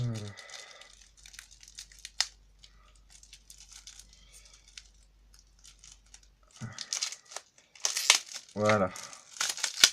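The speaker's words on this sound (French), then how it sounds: "Alors, comment on va ouvrir ce paquet maintenant?" A packet of anime trading cards being torn and opened by hand, with crinkling wrapper sounds near and loud in bursts, and a person talking in between.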